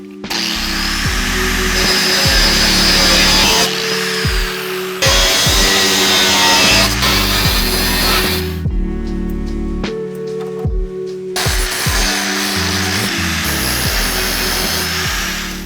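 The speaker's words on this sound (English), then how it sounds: "we're going to do the right thing here and just lop it off with a grinder" An angle grinder slices off bumper bracket tabs on a 2018-2020 Ford F150, a loud, close, sustained whine that drops and restarts between several cuts, with a brief quieter gap midway and no talking.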